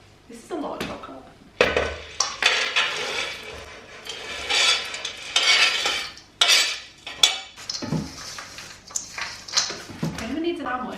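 Mini eggs being stirred into thick cookie dough in a bowl, giving scraping, clattering spoon-against-bowl sounds in irregular bursts, with a person talking over it.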